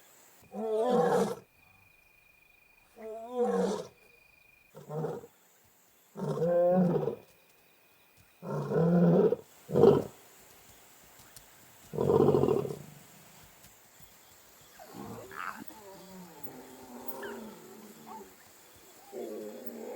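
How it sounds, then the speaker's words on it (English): Lions roar at night to regroup the pride, a series of deep, loud rhythmic roars and grunts, fairly close, tapering into softer calls near the end. "the roar can be heard over 8 kilometers away"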